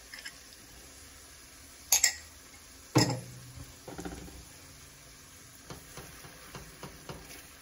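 Apricot preserves and vegetables cook down on a grill with a faint, steady sizzle. Two sharp metallic clinks from utensils stand out, followed by a few softer taps. The clip is quiet overall and has no talking.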